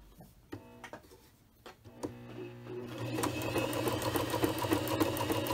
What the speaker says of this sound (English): So now all we need to do is just sew.